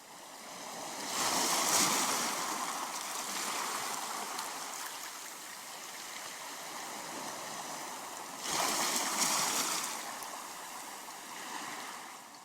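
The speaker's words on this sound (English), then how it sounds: "let's select the seashore sound effect." Ocean waves wash ashore in two broad surges with a continuous hissing surf between them, soft and steady with no voices.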